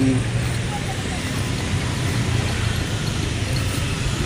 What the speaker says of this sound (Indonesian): Mobil-mobile wis rame yo.